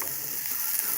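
Onion fries in fat in a pan with a steady, close, crackling sizzle throughout the one-second clip; no one speaks.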